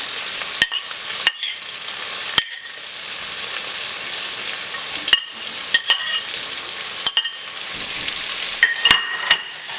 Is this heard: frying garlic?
yes